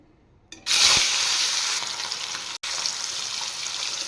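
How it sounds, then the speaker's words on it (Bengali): Rui fish frying in hot oil in a wok, a loud, steady broadband sizzle that bursts in as the pieces hit the oil and keeps going with a brief dropout near the middle, no talking. "এবার মাছগুলো ভেজে নিই তেল গরম হয়ে গেছে"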